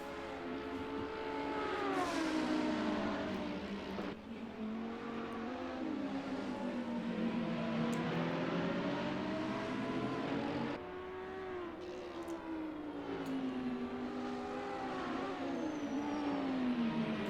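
Audi and McLaren GT race cars on the Kyalami circuit in a sim racing series, engines droning and revving steadily as they shift up and down through corners, a continuous close mechanical whine with no talk.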